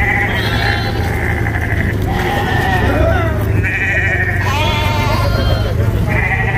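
Several goats bleat repeatedly at a goat and sheep livestock market, overlapping cries rising and falling against a steady low rumble, fairly close and loud.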